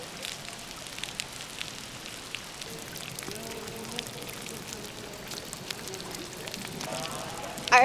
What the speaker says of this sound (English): a waterfall coming out of the sky in this huge cave